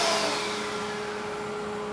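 An injection molding machine's vacuum loader pulls plastic pellets into the injection unit, giving a steady close hissing roar with a faint constant tone, slightly louder at the start and then holding level.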